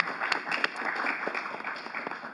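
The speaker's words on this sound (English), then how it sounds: "I just would like to actually have you all give yourselves a round of applause." An audience at a conference panel on the right to counsel claps in a steady, dense patter of many hands, moderately loud and continuous throughout, with no voices rising above it.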